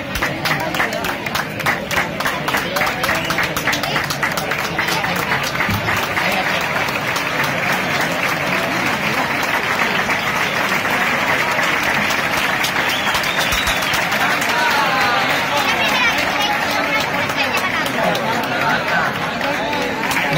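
Crowd on town hall steps applauding a prize winner at a quick-painting contest award ceremony, a long steady roar of clapping with murmuring voices mixed in, sustained and fairly loud throughout.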